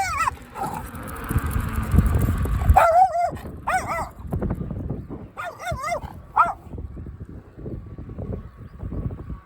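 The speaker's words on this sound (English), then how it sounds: "The little white dog, it causes all the problems up here." A little white dog barks repeatedly in sharp yapping bursts, close by and loud, with whimpering yips between them, heard alongside the hum of a passing Ecotric fat tire ebike.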